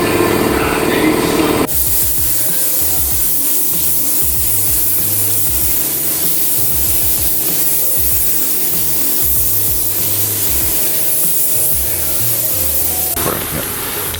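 A spray gun lays down clear coat over a metallic-painted Mustang in a steady, continuous close hiss that runs unbroken for most of the span after a brief start.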